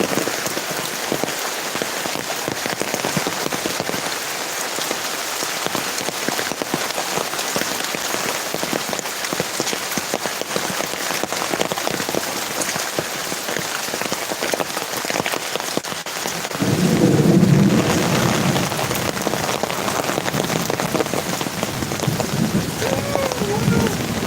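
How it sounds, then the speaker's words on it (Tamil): Steady heavy rain hisses loudly and continuously, and partway through a deep rumble of thunder rolls in beneath the downpour and lingers. "மழை வந்துகிட்டே இருக்குது கொடை பிடிச்சிட்டு போயிட்டுருக்கேன்"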